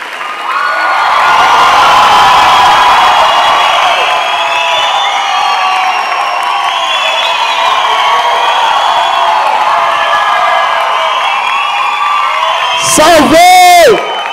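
A loud comedy-show audience shouting and cheering continuously, with whoops rising over a dense wall of voices; it ends with a brief burst of high-pitched noise.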